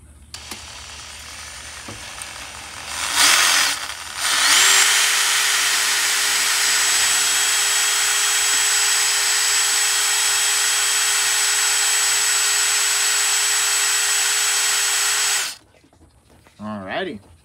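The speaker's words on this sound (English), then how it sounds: "So we're putting on the bolt that supposedly is for extracting. And we're supposed to go counterclockwise." Power drill spinning a bolt extractor counterclockwise on the kick-start lever bolt of a Yamaha YZ125 dirt bike, a steady loud whirring hum held for about ten seconds after a few short bursts, then stopping.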